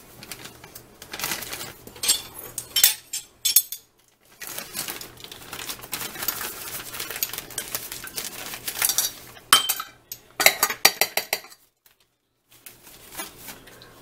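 A metal measuring spoon scraping and clinking against containers and a bowl while scooping cayenne and ginger root powder, giving irregular close rattles, taps and scrapes with short pauses between bursts.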